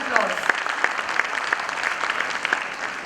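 An audience at a school annual function claps in a scattered, rhythmic patter of distinct hand claps over a general crowd wash, moderately loud.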